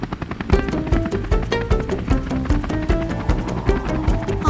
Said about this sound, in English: Olette needs to use the helicopter to go and rescue Leo from the mountainside.